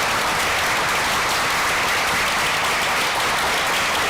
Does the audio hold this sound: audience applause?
yes